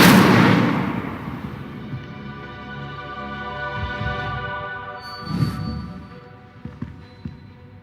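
An Incendio fire spell cast in Hogwarts Legacy, a loud burst opening into a fading whoosh and fiery rumble, followed by a few fainter thuds and crackles.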